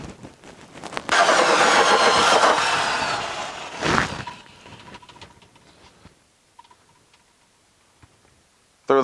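A hand drill fitted with a hole saw bites through plastic with a loud, dense whine for about three seconds, followed by a sharp burst, then quieter scraping and clicks.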